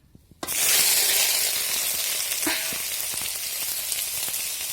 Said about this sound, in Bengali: এই সয়াবিনগুলো আমি দিয়ে দিচ্ছি গরম তেলে।